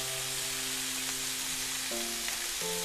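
Shrimp fry in olive oil in a paella pan, a steady close sizzle with crackles, under faint sustained tones, no voices.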